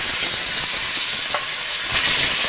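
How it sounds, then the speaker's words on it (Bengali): Ilish fish frying in oil in a pan, a close, steady hiss of sizzling oil with scattered crackles and a few brief clinks throughout. "বাকি মাছগুলো আমি ভেজে নেব।"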